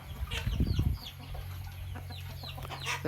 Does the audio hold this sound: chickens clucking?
yes